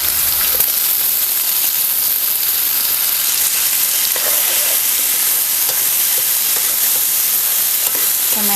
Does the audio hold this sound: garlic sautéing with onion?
yes